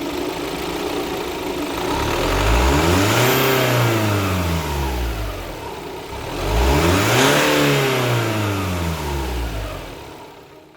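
An Alfa Romeo/Fiat/Jeep 2.0 MultiJet diesel engine is started and revved twice, each rev rising and falling smoothly before settling back to a steady, close-miked idle, with no talk.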